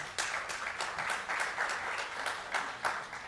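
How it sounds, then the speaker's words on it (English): Attendees at an annual general meeting applaud themselves, a moderate room of clapping with distinct hand claps rising and falling over a few seconds, heard without talk. "we must give ourselves a round of applause for that"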